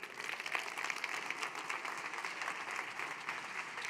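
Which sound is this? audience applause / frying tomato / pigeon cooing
audience applause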